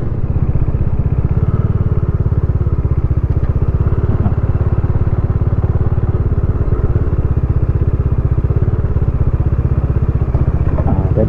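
Modenas Dominar 400 motorcycle engine running steadily while riding near Telipok, Sabah, a loud continuous low throbbing drone with faint clatter, holding even throughout.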